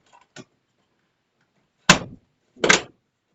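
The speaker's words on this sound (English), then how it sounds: "Now the door closes properly over the timer box and is properly wired." A small door on a timer box is pushed shut, giving a faint click early on, then two firm thunks a moment apart as it closes and latches, with no talking.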